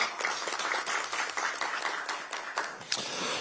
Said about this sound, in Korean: 여러분 차지호 의원에게 박수 한번 보내주시기 바랍니다